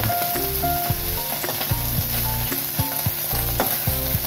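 Small puti fish fry crisp in hot oil for a sour curry, a loud, steady close-up sizzle with recurring clicks and scrapes as they are turned.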